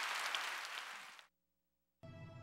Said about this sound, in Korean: 우리 하나님께 감사의 박수를 올려 돌리십시다